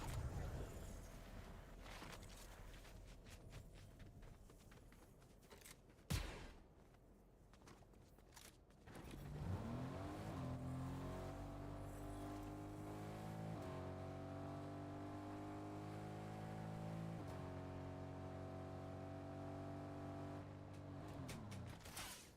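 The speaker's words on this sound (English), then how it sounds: "Let's go jump in that car." A car in the Fortnite video game starts up and drives after a stretch of quieter game sounds, its engine tone rising and settling into a steady moderate hum that runs to the end.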